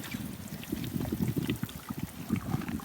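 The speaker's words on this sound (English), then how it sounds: "I'm going to take 500 milliliters of water and pour it through the funnel" 500 milliliters of water poured through a funnel into an interplant depth collector at a desert research site, a steady close trickle with small gurgles and splashes, no talking.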